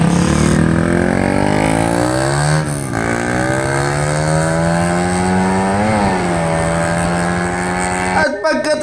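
A Suzuki Raider Fi motorcycle with a slipping clutch lining on a test ride, its engine note loud and close, climbing and dropping in pitch through gear changes before a burst of rattling at the end.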